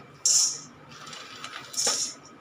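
Peanuts dropped into a hot iron kadai for roasting, two bright clattering rattles of nuts hitting metal, close and sharp, separated by a quiet gap.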